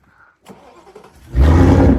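A video game car engine with a Procharger cranks and catches, settling into a loud, steady rumble after a brief quiet lead-in.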